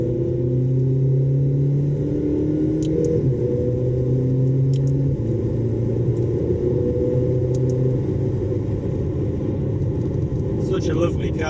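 A 2020 McLaren GT fitted with a titanium exhaust and remap accelerates, its engine droning steadily with shifting tones as it pulls through the gears, heard from inside the car, loud and continuous.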